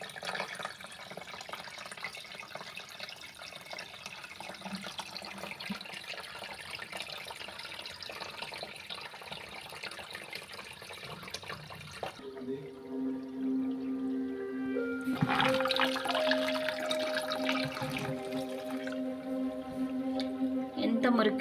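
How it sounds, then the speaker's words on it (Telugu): Dirty water drains out of a top-load washing machine tub during a home repair, a steady running gush that grows louder and more tonal partway through, with talk over it. "ఎంత మురిగ్గా బయటకు వస్తున్నాయో చూడండి వాటర్ మొత్తం"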